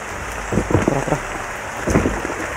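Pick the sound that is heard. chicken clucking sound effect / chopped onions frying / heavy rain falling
heavy rain falling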